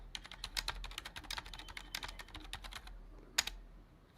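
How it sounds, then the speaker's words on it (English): Rapid keystrokes on a computer keyboard as a password is entered, an irregular run of close, crisp clicks with brief pauses and one sharper tap near the end, no talking. "I got to type in my password."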